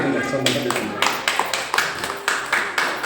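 Several sharp, regularly spaced bursts of clapping from a gathered audience at a sermon, close and fairly loud, with a voice talking underneath.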